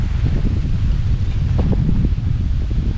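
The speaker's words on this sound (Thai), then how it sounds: "ลมแรงพี่น้องลมแรงมองมา" Strong wind gusting through a village road beside a school field in rural Thailand, a steady loud low rumble with buffeting against the microphone, no voices.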